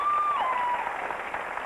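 An audience claps together in a dense, steady burst that fills the short stretch, close and fairly loud, with a thin whistle-like tone sliding briefly near the start.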